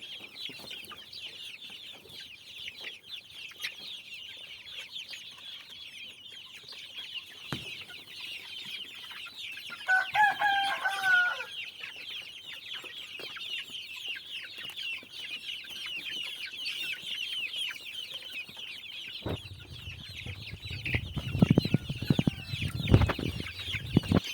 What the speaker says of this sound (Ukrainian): Ось такі курчатка майже два місяці.